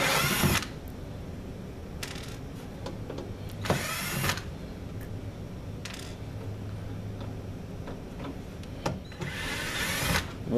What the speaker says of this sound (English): Once you get those 3 screws out